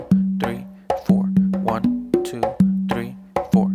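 An Afro beat on congas, with bright slaps and deep open tones repeating in a tight, even groove, played solo and up close with no talking.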